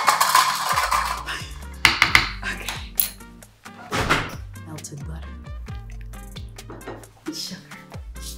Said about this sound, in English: we will be mixing half a cup of vegan butter and a cup of sugar